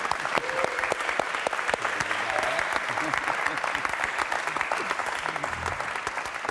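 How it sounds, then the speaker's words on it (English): Audience applause at a horn players' gathering, sustained even clapping of moderate loudness, with a few voices faintly under the clapping. "Applause for Eric!"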